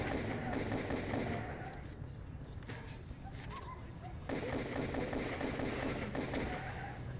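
In the video game Total Overdose, rapid bursts of gunfire hit a car, dense rattling shots in two stretches with a short lull between them, under a busy game mix.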